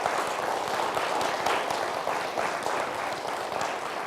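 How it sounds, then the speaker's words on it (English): An audience at an author speaker-series event gives a sustained round of applause, many hands clapping in a steady, even wash with faint individual claps standing out. "a round of applause for Anthony D'Aries"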